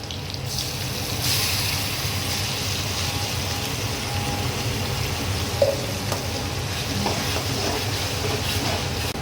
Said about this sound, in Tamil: கொஞ்ச நேரம் அப்படியே கிண்டி விடுவோமா, பச்சை வாசனை போகட்டும்.